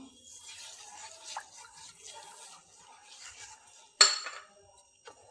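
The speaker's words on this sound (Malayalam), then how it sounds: "എന്നിട്ടിത് നന്നായിട്ട് ഇളക്കി കൊടുക്കാം." Semolina and milk stirred in a pan with a spoon, making faint, soft scraping strokes followed by one sharp metallic clink of spoon on pan.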